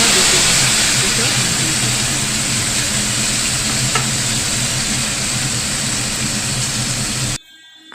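Tomatoes and whole spices such as bay leaf, cinnamon, cardamom, cloves, peppercorns and cumin fry in hot oil for a Kashmiri doka dish. The sizzle is steady and close, with stirring, and cuts out abruptly near the end.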